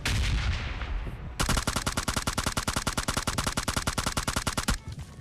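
PUBG video game gunfire against an enemy carrying a shotgun: after a muffled opening, a long rapid burst of evenly spaced automatic shots rattles loud and close for over three seconds, then stops abruptly.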